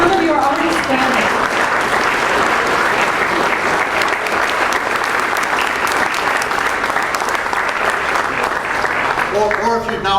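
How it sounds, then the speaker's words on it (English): Sustained, dense applause from a seated audience honoring an athletics committee, a loud even wash of clapping filling about ten seconds, with a voice briefly audible at the start and end. "So we can give you a round of applause."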